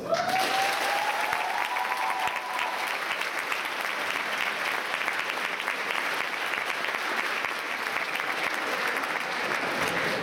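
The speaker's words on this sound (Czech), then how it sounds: "takže prosím o velký potlesk" A crowd at a school event gives a long round of applause for parents and friends, a steady, even wash of clapping hands, fairly distant and unbroken, with a faint voice at the start.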